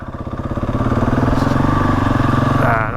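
An adventure motorcycle engine revs steadily in first gear climbing a steep bend in the Yorkshire Dales, a close, loud, pulsing drone that rises in pitch toward the end.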